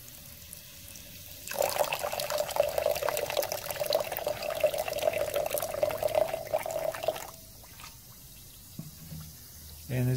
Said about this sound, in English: Then we're gonna pour some hydrochloric acid.